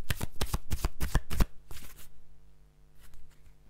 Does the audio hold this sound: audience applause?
no